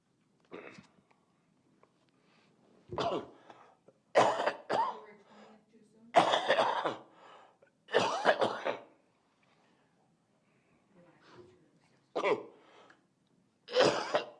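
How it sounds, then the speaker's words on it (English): Several separate coughs or throat-clearing bursts spaced across the clip, fairly close and moderately loud, with brief quiet gaps between them. "Excuse me, my coughing here."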